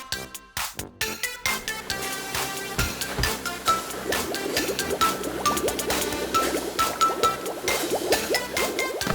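In a cartoon garage, soapy water sloshes and bubbles over a muddy ice cream truck, a rapid series of bloopy, gurgling liquid pops after a few sharp opening hits, moderately loud and alone.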